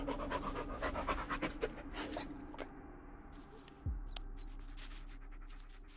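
Bullet the dog pants rapidly and near in the video game Blair Witch, with scratchy rustles and a brief thud partway through before quieter breathing continues.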